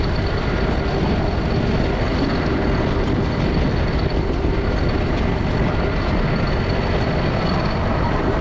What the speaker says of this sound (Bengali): আমাদের ট্রেন